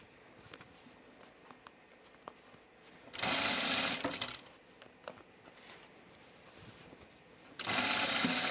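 Sewing machine stitching the gathered seam of a Sophie dress: two short, loud runs of stitching over a low, quiet background with faint handling clicks between them.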